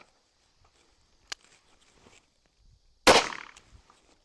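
A single sharp report from a CCI Stinger .22 round fired at a velocity test, preceded by a faint click and small handling noises, with a brief decaying tail and no talking.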